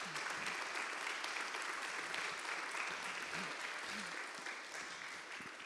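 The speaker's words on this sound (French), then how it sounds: "Et donc, bravo, on peut l'applaudir." An audience applauds steadily at a talk on greening the forecourt of Notre-Dame de Paris. The dense clapping is moderately distant and continues for several seconds before gradually thinning.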